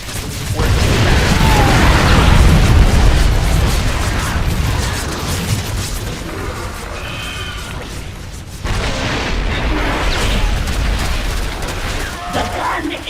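Explosions and gunfire from a StarCraft II battle as a gun is destroyed, a dense sustained rumble of booms and bursts that swells loud early, eases, then surges again with game effects layered over it.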